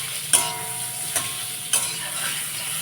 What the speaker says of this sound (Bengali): আমটা একটু ভাজা ভাজা হয়ে গেলে